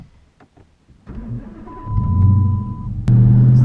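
A Jeep with a 5.7 Hemi V8 starts up after some quiet handling noises, then its engine rumbles and revs louder as it pulls away, ending in a steady, close drone.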